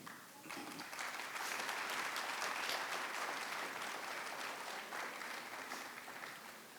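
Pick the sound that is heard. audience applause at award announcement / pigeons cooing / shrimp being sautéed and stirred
audience applause at award announcement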